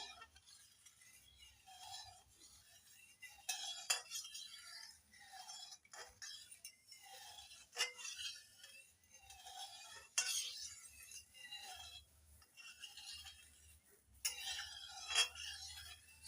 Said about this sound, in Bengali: সাইট্রিক অ্যাসিডটা ভালো করে মিশিয়ে নিচ্ছি জলের সঙ্গে